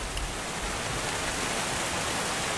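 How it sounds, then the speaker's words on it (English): A steady hiss of rushing water from a waterfall in the video game Obduction fills the space, broad and constant with no voices. "The waterfall."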